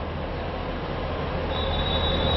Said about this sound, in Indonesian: kereta api Bogoroto masuk jalur 3